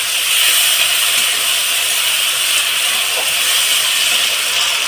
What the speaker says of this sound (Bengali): আদা রসুন দিয়ে ভালো করে মশলাটাকে আমি কষিয়ে নেব।